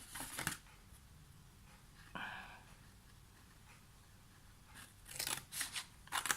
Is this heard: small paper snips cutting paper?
yes